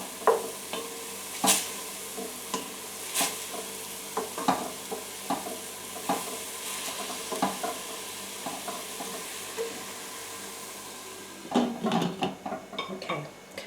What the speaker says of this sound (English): So now let me just give it a quick stir.